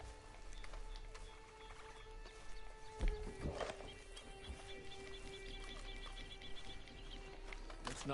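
A horse in the Red Dead Redemption 2 video game, with hoof clip-clops and a whinny over steady game ambience, one louder thump near the middle.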